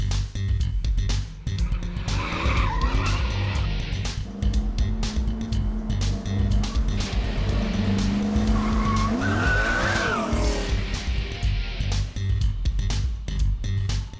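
An upgraded track car drives hard on a race track, its engine roaring loud and steady throughout with sustained tire squeal and skidding through corners, revs rising and falling, no talking.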